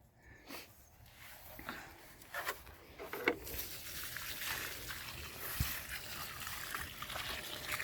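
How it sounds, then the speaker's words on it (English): Water poured from a bucket onto a newly planted seedling in a dacha garden near Khabarovsk, Russia: a soft, steady trickle and splash that runs continuously at low volume. "You want to pour water so there are no bubbles."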